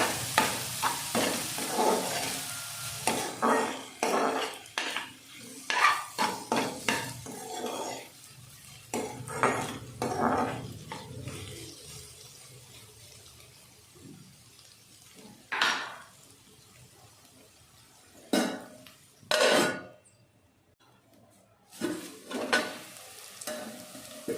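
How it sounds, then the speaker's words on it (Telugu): Crab curry frying in a pan with repeated stirring, utensil scrapes and clanks against the pan over a steady sizzle, loud and close, with occasional sharp knocks and short quiet gaps. "సో మూత పెట్టేసుకుందాం. ఇంకా ఫ్రై అవ్వాలి."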